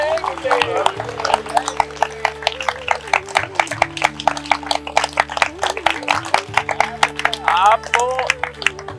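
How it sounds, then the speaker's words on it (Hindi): Hands clap in a quick, uneven rhythm beside a voice that keeps talking over it, with steady droning music underneath throughout. "ताली बजाना बेटा, बजा ताली"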